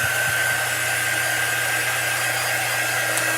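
A hair dryer blows steadily on freshly applied chalk paint, a close, constant airy whir with a low motor hum throughout and no speech.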